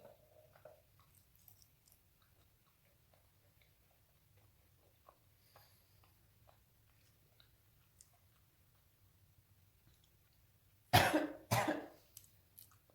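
Two sharp, close coughs come near the end after a long stretch of near-silence with faint ticks and a low hum.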